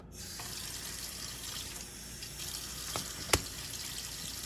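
Water runs steadily onto gecko egg incubation substrate, a soft continuous trickle at low level with a couple of small clicks and taps partway through, no talking.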